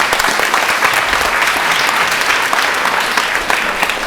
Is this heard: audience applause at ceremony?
yes